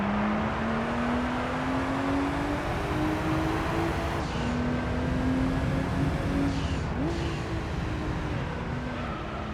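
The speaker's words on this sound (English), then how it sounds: "But if you want to listen to a car go for a little while, be my guest." A stock car in Gran Turismo 3: A-Spec drives with a steady engine drone whose pitch climbs gradually and drops back at each gear change, close and continuous, with no talk over it.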